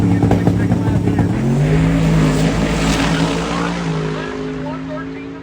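A 1955 Chevy drag car, 3,000-pound minimum in the unlimited iron class, roars loudly and close at a racetrack, its engine pitch dropping and the sound slowly fading as it pulls away, with an announcer talking over it.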